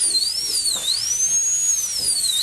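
A high-speed dental bur trimming a gypsum stone die during die preparation, a loud, piercing whine whose pitch sweeps up and down as the load changes, heard up close with no talking.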